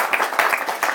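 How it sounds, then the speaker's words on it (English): An audience applauds a speaker at a university alumni panel discussion, with dense, steady clapping from many hands close by that keeps going through the whole second. "I think he can get a clap"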